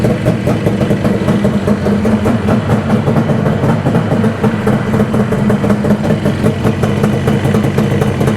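A Yamaha RD400 motorcycle engine, freshly swapped in, idles nearby with a loud, steady, fast-pulsing beat that holds even throughout.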